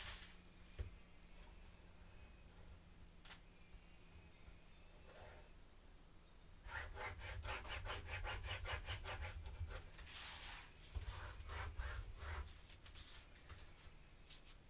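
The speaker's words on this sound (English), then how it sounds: "grab my bone folder and burnish" A bone folder is rubbed over the hinges of a paper mini album, making faint, soft scraping strokes in quick rhythmic bursts, close and quiet.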